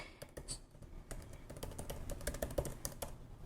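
Rapid, irregular clicking of computer keyboard keys, quiet and close, with bursts of keystrokes running throughout and no voices.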